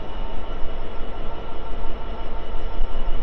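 Train carriages roll past at Basingstoke station on the South West Main Line, a steady, loud, close rumble of wheels and rail noise filling the whole moment with no voices.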